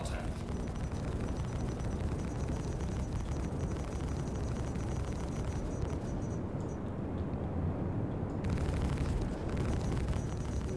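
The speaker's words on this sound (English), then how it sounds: "So it's those cannons whenever we hear the explosions?" Cannon explosions in a space combat video game, a continuous loud roar of blasts and rumbling that fills the whole stretch, with voices talking over it.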